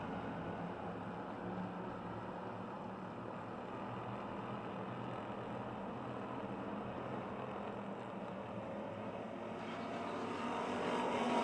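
Race cars roar around a short oval speedway during a 15-lap Yellow Book Charger feature, a continuous loud engine drone that holds steady and builds slightly near the end.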